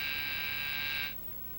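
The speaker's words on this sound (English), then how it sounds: "Why the buzzer?" An electric buzzer aboard a ship in a 1941 serial sounds a steady harsh drone for about a second, then stops, leaving a low background hum.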